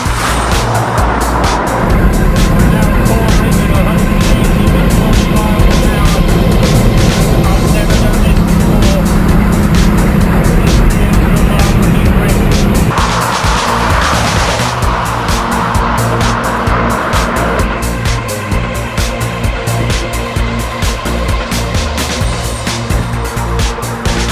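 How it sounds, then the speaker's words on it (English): A Bugatti Grand Sport Vitesse roadster is driven hard, its engine roaring loud and close the whole time with tyre squeal and a sudden shift in engine pitch partway through. "It's the new Bugatti Grand Sport Vitesse, and it is quite simply the fastest roadster in the world."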